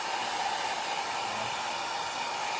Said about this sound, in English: We're going to use our hair dryer.